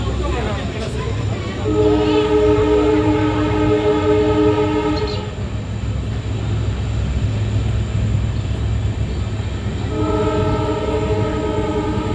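A Mayiladuthurai to Karaikudi passenger train rumbles past close by, its horn blaring in two long blasts over the steady rolling noise of the wheels.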